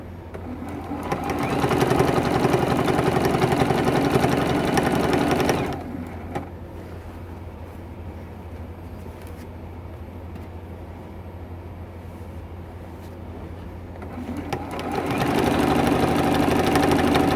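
Sewing machine stitching a heavy T-shirt quilt, running loud and steady in two long bursts with a quieter motor hum between, close up with no talking.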